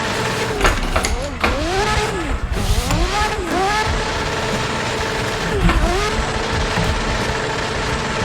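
Drift car engine in the Assetto Corsa video game revving hard and wavering through repeated throttle swells, with skidding texture underneath, loud and continuous for the whole stretch.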